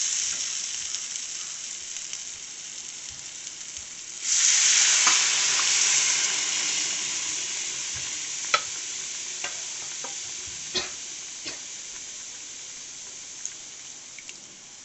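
Pressure-cooked chana dal drops into hot frying masala that is leaving oil, and the sizzle surges loudly. It slowly settles while a spoon clicks and scrapes against the pan now and then.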